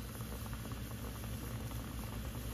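Steady, dense sizzling of chicken frying in hot oil, a continuous crackling hiss with no voices.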